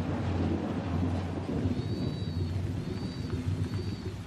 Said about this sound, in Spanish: entonces empezó a llover